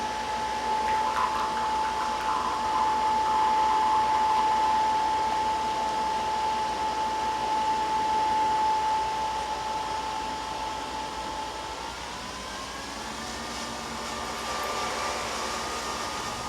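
A Nespresso Vertuoplus coffee machine brews with a steady whirring hum and a high whine, loud and close, shifting pitch partway through as it keeps running alone.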